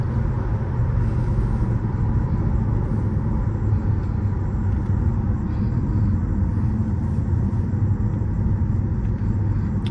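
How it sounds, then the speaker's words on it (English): A supercharged 476 hp V8 Mercedes-Benz CLS 55 AMG drives under throttle, its engine a dense, loud, continuous low rumble and drone from inside the car, with no break or talk. "I'm gonna press a little more gas on this road now so you can see the car go."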